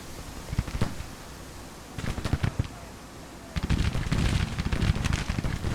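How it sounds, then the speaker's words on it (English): Distant musket volleys from an American Civil War battle in Grand Tactician, ragged crackling bursts of rifle fire that come in scattered waves and build toward the end. "Sounds like it started firing."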